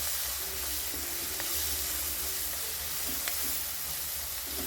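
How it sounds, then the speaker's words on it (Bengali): Spices with salt, turmeric and chilli frying in oil for a village-style chicken curry, a continuous dense sizzle with faint stirring scrapes, steady and close, no talking. "এটাকে একটু এরকম ভালো করে ভেজে নিতে হবে"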